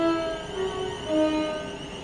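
A Thameslink Class 700/0 electric train running on the Southeastern High Speed line in Train Sim World 3, fitted with a sound mod, gives a steady layered motor whine with sustained tonal hums, continuous and unbroken, with no talk.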